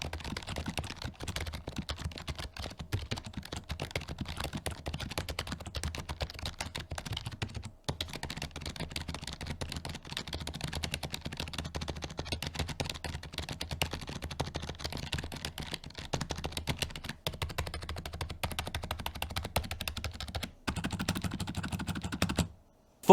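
Quiet switches on a SteelSeries Apex 3 TKL gaming keyboard clatter in a fast, continuous stream of soft keystrokes, close and steady, with brief pauses near the middle and end and no voices.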